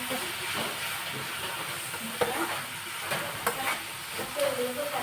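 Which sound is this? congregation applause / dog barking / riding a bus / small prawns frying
small prawns frying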